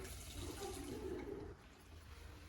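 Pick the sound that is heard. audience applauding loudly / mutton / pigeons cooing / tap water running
tap water running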